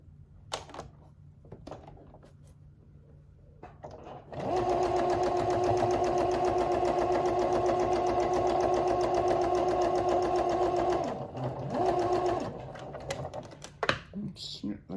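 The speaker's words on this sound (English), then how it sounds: "So I won't start sewing right at the end, because obviously I've got to join those pieces." A sewing machine joins fabric pieces, running steadily in one long, close, even burst of mechanical whirring with short pauses and restarts near the end, after quiet handling at the start.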